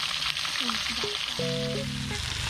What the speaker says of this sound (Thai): ต้องทอดปลาก่อนแล้วค่อยไปผัดกับผักใช่ค่